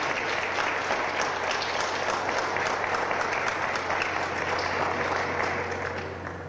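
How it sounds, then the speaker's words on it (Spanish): Sustained, steady applause from an audience at the close of a legislative café-talk event, dense clapping holding at an even level throughout before easing slightly at the very end. "Brindamos nuevamente un afectuoso aplauso"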